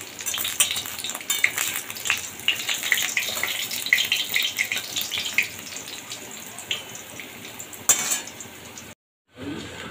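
Small bottle gourd fritters sizzle in hot oil with a steady crackling hiss, along with occasional scrapes of a utensil. The sound briefly drops out near the end.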